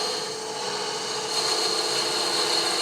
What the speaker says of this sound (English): 1/16 inch fluted parting tool because it makes the smoothest parting cut